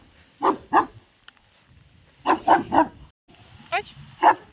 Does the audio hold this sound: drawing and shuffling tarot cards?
no